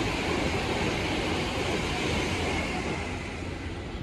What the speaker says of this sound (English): The train now approaching platform 3 does not stop here